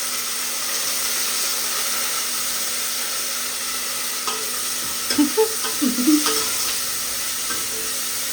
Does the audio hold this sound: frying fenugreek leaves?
yes